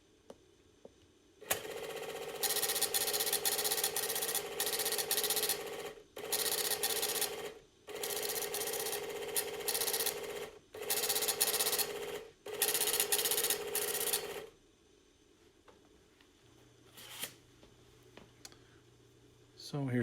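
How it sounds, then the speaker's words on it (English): An Epson slip printer printing a receipt, sounding as a series of loud, rasping mechanical bursts separated by brief pauses that stop abruptly, followed by near quiet with faint clicks. "So here's the printout from an Epson slip printer."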